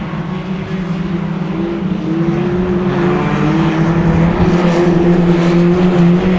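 Autograss race cars on the last lap of a dirt-track meeting at St Neots, engines droning loud and steady with a rising, sustained roar and no voices over it.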